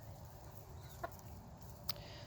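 Chickens at a feeder give a couple of quiet, brief clucks over low, steady background noise, faint and close by.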